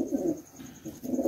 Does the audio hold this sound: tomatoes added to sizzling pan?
no